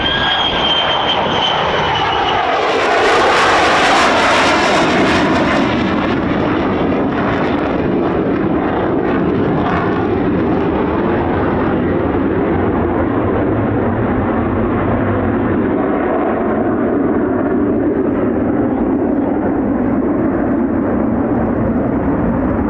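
A fighter jet, an F-15 or F-35 at the 48th Fighter Wing base at RAF Lakenheath, makes a low approach with a loud, sustained engine roar that swells close overhead and then drags out as a long fading rumble.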